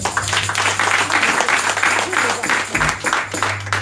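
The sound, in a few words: audience applauding to welcome the interpreter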